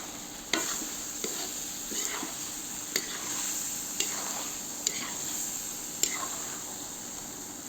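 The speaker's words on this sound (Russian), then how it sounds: "И добавляю кашниш в казан, то есть кинзу." Cilantro stirred into Uzbek mastava soup sizzling in a kazan over a wood fire: a constant soft frying hiss with a handful of light scraping stirs and clinks spaced about a second apart.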